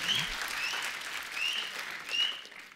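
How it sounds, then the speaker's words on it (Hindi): A studio audience on The Kapil Sharma Show breaks into loud, sustained applause for an arriving guest, with a few whistles cutting through the clapping. "यार एक बार जोरदार तालियां संजू पाजी के लिए।"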